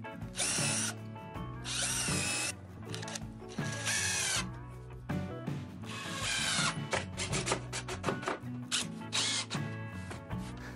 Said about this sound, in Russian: Разложил ее на столе и три доски прикручиваю как есть.